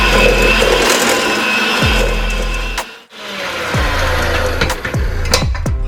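An electric mixer churns pecan chocolate chip cookie dough with flour, its motor whirring loud and close. It cuts out briefly midway, then starts up again with a grinding hum.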